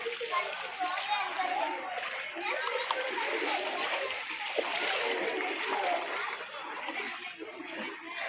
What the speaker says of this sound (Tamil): சென்னையில் குளியல்